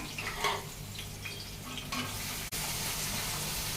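Green chillies stirred as they fry in a pan for a village-style prawn tomato curry, a soft continuous sizzle with faint scraping of the spoon, fairly quiet and without speech.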